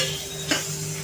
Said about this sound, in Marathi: आता आपण हे मसाले जे आहेत ते ॲड करायचे आहेत आणि त्याच्यासोबतच ॲड करायचे आहेत 2 चमचे आलं लसूणची पेस्ट